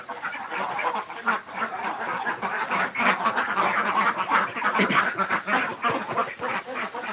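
A flock of ducks quacks continuously, overlapping calls forming a busy, close chatter that never pauses.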